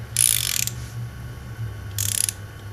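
Torque wrench tightening oil pump bolts on a Subaru EJ22 engine, two short bursts of close ratcheting clicks separated by a pause over a low background hum.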